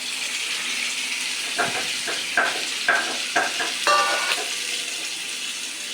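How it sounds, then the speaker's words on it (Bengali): Chopped potatoes dropped into a hot pan and frying, with a steady hiss of oil and a few irregular clattering stirs and scrapes close by, no talking. "এখন ভেজে নিতেছে এগুলা। এই যে এখন আলু দিয়ে দিল, আলু কুচিগুলা।"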